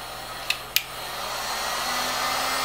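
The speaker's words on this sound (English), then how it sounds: "So there's two settings to the heat gun." A heat gun blows a steady broadband rush of hot air over paper at an art desk, holding a constant level with two short clicks near the start as the setting is switched.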